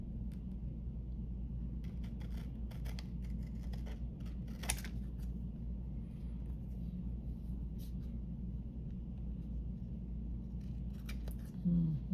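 Scissors cut a shape out, with a scattered series of sharp, close snips and rustles over a constant low rumble of background noise.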